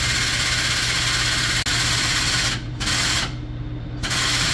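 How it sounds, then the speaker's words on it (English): An air-over-hydraulic press hums with a steady low pump drone while pushing a bushing into a leaf spring, loud and continuous, with a brief dropout and hissing pauses near the end. "we got the press engaged. Just start pushing the bushing in."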